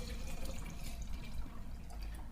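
Water poured into an ITEHIL portable water filtration system, a faint, steady splashing trickle running continuously for a couple of seconds with no talking.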